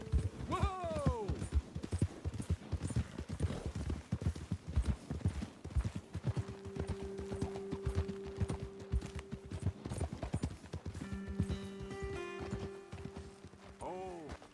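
Horse hooves clopping and galloping in Red Dead Redemption 2, a steady rhythmic beat under intermittent talk, with a brief whinny-like call near the start and end.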